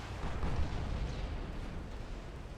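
Naval gunfire against a battleship in Ultimate Admiral Dreadnoughts: a low, continuous rumble of distant heavy guns and explosions, steady and muffled throughout without distinct individual shots.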